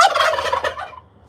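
Turkey gobbling at backyard feeding time among chickens, ducks and geese: one loud, close, rapid rattling gobble that cuts off after about a second, with no talking.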